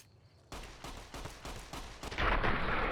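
A rapid string of loud gunshots as a magazine is emptied in the video game Fallout New Vegas, sharp repeated cracks with a dense burst at the end.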